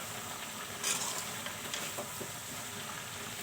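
Cauliflower and potatoes fry in a pan while being stirred, giving a soft, steady sizzle. Occasional brief scrapes and bubbling bursts rise above the hiss, and the whole sound stays fairly quiet.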